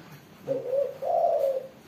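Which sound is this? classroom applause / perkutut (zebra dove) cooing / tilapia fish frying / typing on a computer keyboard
perkutut (zebra dove) cooing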